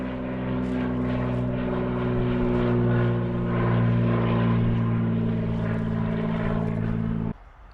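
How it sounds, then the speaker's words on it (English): A propeller plane arrives to collect campers from a remote camp, its engine droning loud and steady with a strong low hum, building slightly before cutting off abruptly near the end. "here comes the plane to pick us up"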